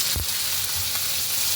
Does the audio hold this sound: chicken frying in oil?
yes